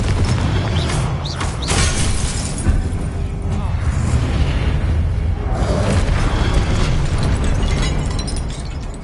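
Confringo fire spell explosions in Hogwarts Legacy, a dense, continuous barrage of loud booms and bursts with crackling debris and shattering, blending into heavy combat noise throughout with no pause.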